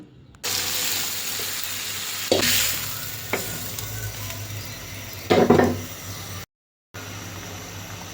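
Steady loud sizzling as water is poured into a hot frying pan used for frying fish, with a couple of brief hissing surges and scraping, no voices, ending after a short silent gap.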